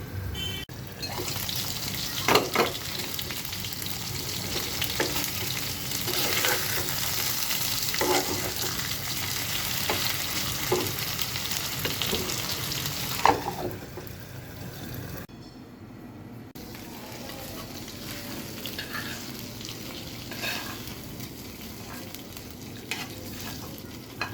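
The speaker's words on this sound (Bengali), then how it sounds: "ঢাকা দিয়ে ঢেকে দিচ্ছি তাহলে খুব সুন্দরভাবে হালকা ভাজার মাধ্যমে এটা সিদ্ধ হয়ে যাবে" Fish cutlets fry in a covered pan with a steady, dense sizzle and a few sharp pops, and the sound turns more muffled and quieter about two-thirds of the way through.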